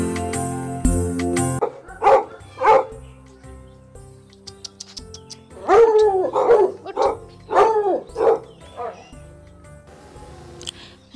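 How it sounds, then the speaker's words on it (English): Dog barking in a children's alphabet lesson, with two barks followed by a burst of several loud close barks, and a voice speaking between them. "D is for dog."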